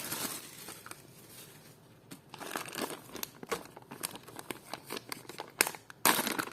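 Plastic packet of vintage jewellery crinkling in irregular bursts, close and moderately loud, with rustling handling between louder crackly moments.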